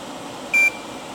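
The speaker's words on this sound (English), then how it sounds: "Now you can hear the audible warning starting to indicate that the battery voltage is low." A single short electronic beep, a clear tone lasting a fraction of a second, sounds as a car's low-battery voltage warning over faint background hum.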